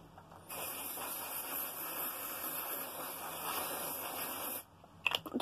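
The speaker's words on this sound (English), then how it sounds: "the spray product I use is some dry shampoo," A steady aerosol spray of dry shampoo hisses continuously for about four seconds, close by, then stops, followed by a few faint clicks.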